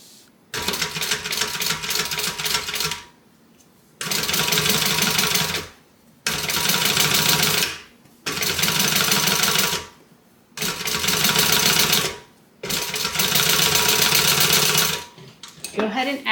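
Sewing machine top-stitching a flat seam on a tote bag, running in six steady bursts of about two seconds each with short pauses between, loud and close with no talk.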